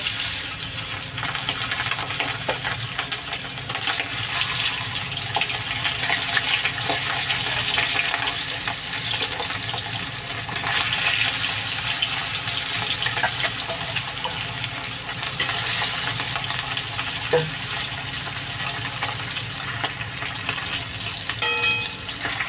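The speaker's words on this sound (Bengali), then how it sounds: "তেলটা গরম হয়ে গেছে এবার মাছগুলো ভেজে নেব" Hilsa fish frying in hot mustard oil in a kadai, with a steady, close, loud sizzle and crackle running throughout, occasional stirring and light clinks, no talking.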